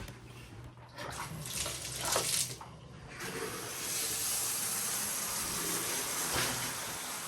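A shower runs in a dim bathroom, water hissing and spattering steadily and close, with brief surges as the spray shifts.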